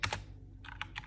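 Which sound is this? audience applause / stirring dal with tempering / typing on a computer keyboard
typing on a computer keyboard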